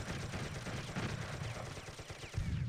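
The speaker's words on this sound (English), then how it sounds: "Oh, he's got a mortar going out, but it's short." Mortar and gunfire from an online battle game, a dense rumbling burst of repeated low explosions and rattling shots that continues steadily throughout, ending in a heavier boom.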